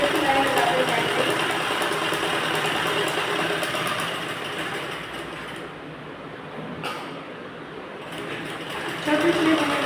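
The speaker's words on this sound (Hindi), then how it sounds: "इसको बराबर में हम इस तरह से करते हुए सिलाई लगाते जाएंगे" A sewing machine stitches a blouse with a steady, continuous mechanical whir and rapid needle rhythm, fairly loud and close, dipping briefly midway before resuming; a voice speaks over parts of it.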